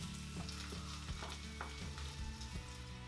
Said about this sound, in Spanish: Y añadimos la cebolla picada muy menuda. La freímos hasta que esté tierna.